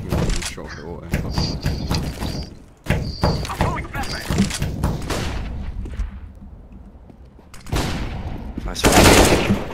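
Auto sniper rifle fire in CS:GO, with a series of sharp, loud game gunshots in bursts, mixed with other game effects and player talk over the action.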